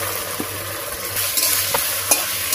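Ginger and cumin masala frying in hot oil in a village kitchen, a continuous close sizzle with a few scraping stirs of a spatula against the pan.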